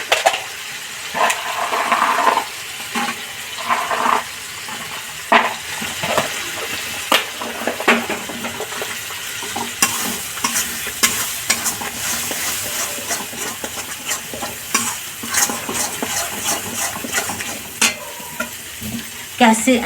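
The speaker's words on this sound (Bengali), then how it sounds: "দিয়ে এটাকে মশলাটাকে কষাবো কয়েকটা মটরশুঁটি দিয়ে দিই" Spiced masala with a few green peas is stirred and fried for a pumpkin kofta gravy. A steady, close sizzle runs throughout, with frequent scraping stirs of a spoon against the pan.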